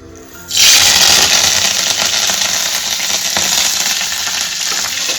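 Curry leaves, chopped green chilli and mustard seeds hit hot oil for tempering, bursting into a loud, sudden sizzle that stays strong and steady with crackling spatter.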